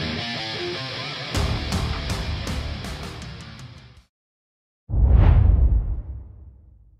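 Heavy distorted electric guitar riff in lowered drop tuning, in a symphonic metal style, loud and dense with sharp accents, breaking off into a short silence before a single crashing chord rings out.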